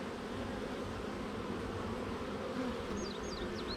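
Honeybees hum in a continuous, even drone from an open beehive, close and steady throughout, with no voices.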